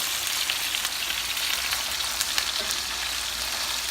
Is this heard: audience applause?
no